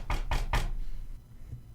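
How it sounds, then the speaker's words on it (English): Three firm knocks on a door in an even quick rhythm, close and clear, followed by a quiet pause with no talk. "Do we just knock? I'll try it."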